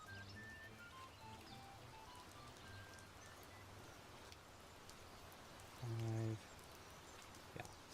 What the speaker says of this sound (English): that rain sounds really nice